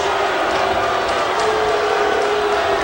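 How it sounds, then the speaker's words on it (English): A TNA Impact wrestling crowd cheers and claps in a dense, loud, continuous roar that fills the arena for a few seconds. "crowd showing their love"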